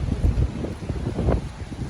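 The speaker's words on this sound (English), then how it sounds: "People are rushing to get things inside because the rain and the winds are pushing heavy." Strong storm wind gusts buffeting the microphone on a city street with sidewalk cafe fixtures during a cold front, a steady low roaring rush that swells and surges in gusts with no talk.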